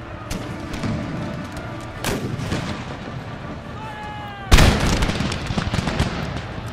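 Musket volleys from massed troops in Empire: Total War crack out in a few sharp bursts, the last one loudest and close, over a din of battle with talk in between.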